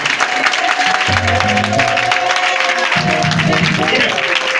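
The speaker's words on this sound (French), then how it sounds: "Est-ce que tu peux acclamer le Seigneur?" A church congregation applauds and acclaims the Lord, producing a dense, continuous wash of clapping and cheering throughout. Loud voices ring out over the crowd noise in short bursts.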